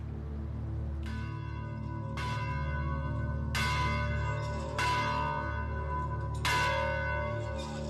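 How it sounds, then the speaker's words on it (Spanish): Church bells ring out in a joyful festive peal, with several bright strikes at uneven intervals over a sustained low ringing hum, moderately distant. "Abilio echaba las campanas al vuelo, un toque muy alegre que solo se daba en ocasiones especiales"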